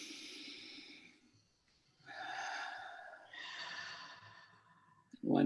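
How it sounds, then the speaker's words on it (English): Slow, deep breaths in a guided relaxation exercise: a long exhale, a pause, then two drawn-out breaths, close and soft, ending with a sharp sniff. "so that I know it's a nice deep breath."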